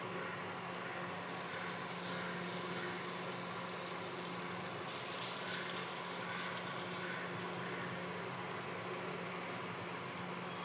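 Grated potato goes into milk cooking with a little ghee for potato kheer, giving a steady, even sizzling and bubbling hiss that runs unbroken throughout, close and moderately loud, with no voices.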